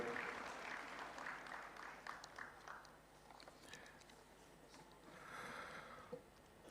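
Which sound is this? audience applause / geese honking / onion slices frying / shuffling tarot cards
audience applause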